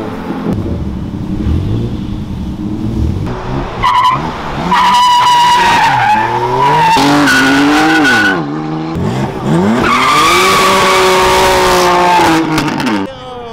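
A heavily lowered BMW passes in a street full of slammed cars, tyres squealing and engine droning as it moves along amid traffic, with sliding whines and nearby vehicle noise throughout.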